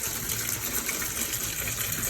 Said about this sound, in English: So we decided to fill little containers with water.